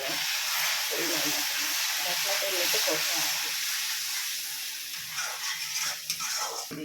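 Masala spices sizzling and hissing in a pan while being stirred for a chicken gravy, a steady loud fry with scraping stir strokes, easing slightly toward the end.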